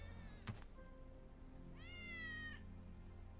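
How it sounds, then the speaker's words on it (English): A single faint, drawn-out meow from Wedge's cat in the video game Final Fantasy VII Remake rises and fades late in the moment, after a brief click, over a quiet steady ambient hum. "That's Wedge's cat."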